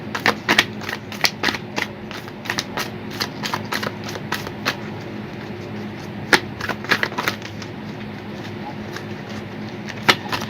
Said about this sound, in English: As you can see, Shar, I struggle with shuffling.